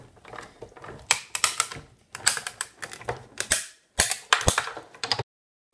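A Big Shot die-cutting machine cranks a Thinlits die sandwich through its rollers, giving irregular clusters of clicking, ratcheting mechanical clatter in short bursts with brief pauses, close and fairly quiet, ending abruptly.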